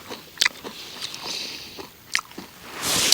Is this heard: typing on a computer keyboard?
no